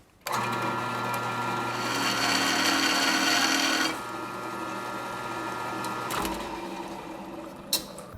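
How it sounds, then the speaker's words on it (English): A metal bandsaw in a shed workshop runs with a steady whining hum and a brighter cutting rasp for a few seconds, then settles back to a lower idling drone before a short clunk near the end. "This is a metal bandsaw, and I've used this heaps over the years."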